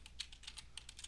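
Quick keystrokes clatter on a computer keyboard while typing into a spreadsheet's find and replace box, a close, rapid run of about a dozen light clicks with no voices.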